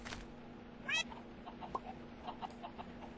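A cat meows once in the Minecraft video game, a short rising game-sound meow near the start over a quiet background with faint chicken clucks and small clicks.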